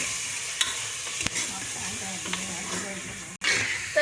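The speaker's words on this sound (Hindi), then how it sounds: "आप इसे लहसुन अदरक के पेस्ट में फ्राई कर लीजिए" Half a kilo of boneless mutton fries in garlic ginger paste, a steady sizzle and hiss with occasional stirring scrapes and clatters, loud and close throughout.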